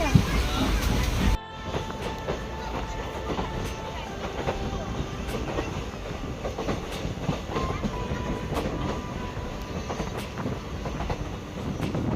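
A train rolls steadily along the rails with rumbling and periodic clickety-clack, loud and continuous after a brief abrupt shift near the start.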